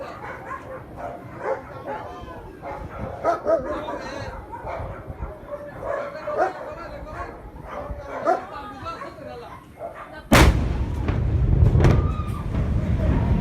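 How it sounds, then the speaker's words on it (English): Explosion in Beirut on 4 August 2020, a sudden loud blast that bursts in after a stretch of dog barking and chatter, followed by a sustained rumbling roar. "an explosion ripped through Beirut."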